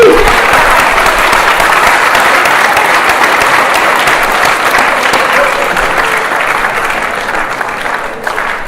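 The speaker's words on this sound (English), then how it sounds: "Give them a round of applause." An audience in a school hall gives loud, sustained applause at a high school National Honor Society induction ceremony, a thick unbroken roar of clapping that fades gradually toward the end.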